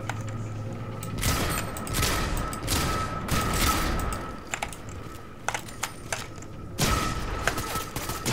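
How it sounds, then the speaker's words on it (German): Gunfire crackles in Fortnite as several bursts of rapid, sharp shots arrive in clusters at moderate distance, separated by quieter gaps, with no voices over them. "es schießt auf einmal da drin"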